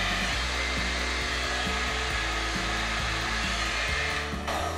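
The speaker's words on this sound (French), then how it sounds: "ça c'est haute puissance du coup, je pense que c'est vraiment comme un vrai sèche-cheveux" A Revlon-dupe hot air brush runs on its high power setting, giving a loud, steady motor whir and rushing airflow like a full hair dryer, continuous throughout with no talking.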